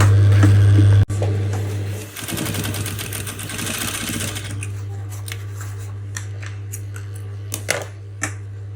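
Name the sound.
sewing machine stitching a bra cup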